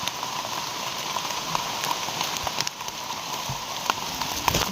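Steady rain falls and patters onto surfaces outdoors during mushroom foraging, a dense continuous hiss with scattered sharper drip hits throughout.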